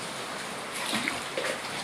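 Floodwater from heavy rain in Calabar pours into an office, a steady broad rushing and splashing flow that fills the scene at moderate level, with a few brief surges.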